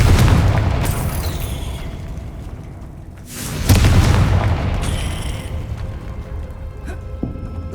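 Explosive blasts from the Confringo fire spell in the video game Hogwarts Legacy, two heavy booming bursts a few seconds apart, loud and close, each followed by a rumbling decay.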